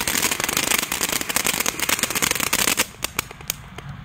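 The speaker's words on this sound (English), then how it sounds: "that was like a mini giant firework" Rapid, dense crackling bursts of fireworks going off nearby, a steady barrage that thins into scattered sharp pops toward the end.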